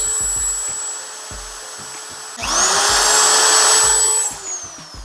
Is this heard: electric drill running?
yes